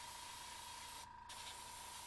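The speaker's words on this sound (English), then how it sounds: "Just my focus of spray is on the sharp edges." An airbrush sprays paint onto a Mechanicum Ordinatus Sagittar model, a steady close hiss that cuts out briefly and then resumes, with no talking.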